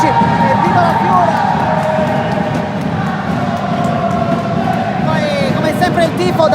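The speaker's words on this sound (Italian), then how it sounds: "Poi come sempre il tifo da parte di entrambe le tifoserie, meraviglioso come sempre" Crowd of fans from both teams cheering and chanting continuously throughout a futsal cup match in Sicily, a dense, steady roar of voices with no clear breaks.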